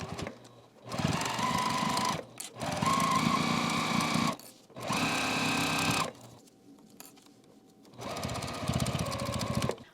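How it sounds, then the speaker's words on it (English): Sewing machine stitching a zipper onto the edge of a crochet sunburst pouch: loud close buzzing runs of about two seconds each, separated by short pauses and one longer gap. "I can just take this to my machine and sew down that edge"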